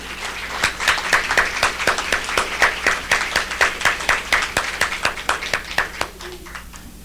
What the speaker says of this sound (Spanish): Un aplauso para Sara,